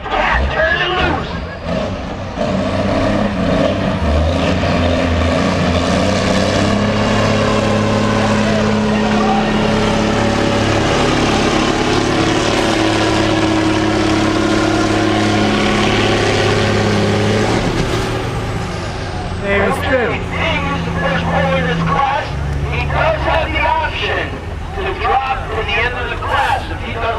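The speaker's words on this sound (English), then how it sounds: "He's going to spin the tires over 100 miles an hour." A pulling truck roars steadily at a county fair truck pull as its tires spin at high speed, a loud sustained engine drone with crowd babble and announcer talk over it.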